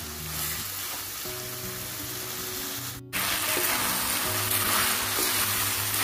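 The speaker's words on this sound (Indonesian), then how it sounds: "masukkan kikilnya, diaduk-aduk" Steady, loud sizzling of beef skin (kikil) frying and being stirred in a pan for Indonesian oseng-oseng, continuous hiss with a brief break midway, no voices.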